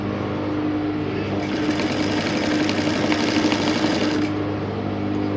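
A sewing machine stitches boning onto a structured sleeve with crinoline mesh, a loud, steady, close motor whir with rapid needle clatter that stays constant throughout, without talk.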